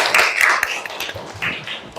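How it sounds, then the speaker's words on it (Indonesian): A short burst of classroom applause from students in an Indonesian school physics lesson, with dense, continuous clapping that swells and fades over two seconds. "Oke, tepuk tangan buat kita semua."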